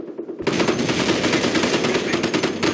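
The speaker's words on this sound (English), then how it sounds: "Cops are firing on us!" Machine gun fire rattles in rapid continuous bursts in the World War II strategy game Company of Heroes, loud and dense, starting abruptly after a brief quieter moment.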